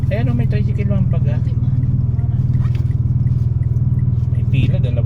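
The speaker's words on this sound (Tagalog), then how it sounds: "Ayan o, may tricycle lang baga." A motorcycle tricycle engine idling or passing close by with a loud, steady pulsing rumble throughout, while people talk over it.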